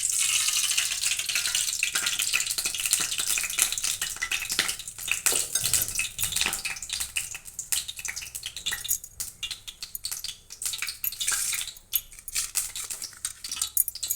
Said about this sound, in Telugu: ఇలా ఆయిల్ వేసుకుంటున్నానండి.